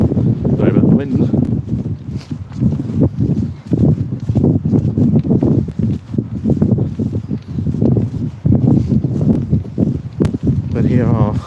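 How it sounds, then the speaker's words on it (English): Large horses, apparently including a Shire, walk past outdoors, their hooves clip-clopping in an uneven rhythm beneath heavy wind buffeting the microphone, while someone talks nearby. "But here are some proper horses."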